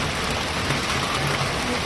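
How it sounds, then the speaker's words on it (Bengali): Steady rain falling beside a river, a dense, even hiss that fills the whole stretch without pause, with a faint low rumble underneath. "এই যে বৃষ্টি হচ্ছে দেখাচ্ছে"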